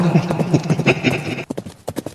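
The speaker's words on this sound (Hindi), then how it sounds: "ये बोल के आर्या घोड़े पे सवार होती है और वहां से चली जाती है।" A horse's hooves clip-clop as its rider rides away, a quick irregular run of hoof strikes, close at first and then sharper and sparser.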